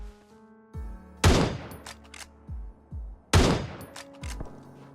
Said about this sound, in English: the other new weapon that is coming to the new PUBG Mobile update is the Winchester, which is an awesome rifle